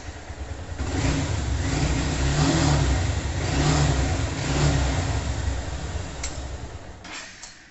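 A motorcycle engine runs steadily after a cloth is pulled from its air intake, a loud, continuous mid-pitched drone with gentle swells in revs, close by and alone, easing off near the end.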